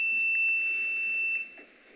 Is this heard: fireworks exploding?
no